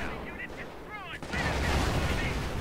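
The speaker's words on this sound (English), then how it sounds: "They bloody blew it to smithereens!" A Panzer IV tank blows up in the Company of Heroes strategy game, a heavy booming blast that rises midway and rumbles on to the end, with a brief voice just before it.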